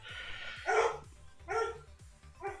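Several loud dog barks come from indoors, spaced about once per second, with low background noise underneath and no talking.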